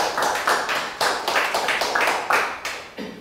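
A church congregation at a Sunday worship service claps in rhythmic unison, with sharp, evenly spaced loud claps at roughly two per second. The claps are close and fill the space, and no one speaks over them.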